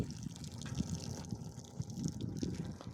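Water trickles and gurgles at a remote camp spot in a valley along the Camino de Santiago, a soft, continuous flow heard close by with no talking.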